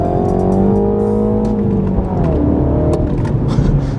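A Mini John Cooper Works engine revs hard and loud up close, its pitch sweeping upward then dropping and climbing again, with sharp clicks and crackles over the continuous roar.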